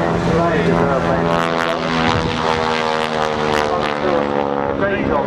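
North American T-6G Texan propeller aircraft flying at a display at Shoreham, a loud steady droning engine with harmonic tones throughout, heard continuously.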